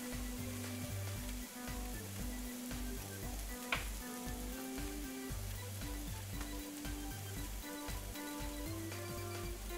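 Garlic fries in a pan with a soft, continuous sizzle heard up close, alongside a steady background hum.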